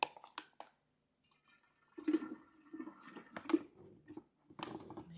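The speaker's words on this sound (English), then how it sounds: "We're going to pour that in." Kombucha starter liquid containing the mother being poured from a container into a jar, heard as short gurgling splashes and glugs in separate bursts with pauses between them, close by.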